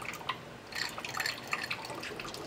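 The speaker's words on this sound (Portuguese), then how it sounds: "a gente vai botar água bem devagarzinho" Water poured slowly into whey protein powder to mix a thick shake, a soft, steady trickle with faint irregular splashes and drips, quiet and close, with no talking.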